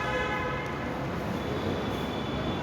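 A train at an early-morning railway station gives a steady, even rumble with faint high tonal whine, continuous and moderately distant, with no one talking.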